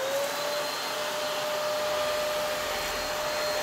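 A small handheld vacuum cleaner runs continuously, a close, even whirring drone with a thin high whine and no pauses or voices.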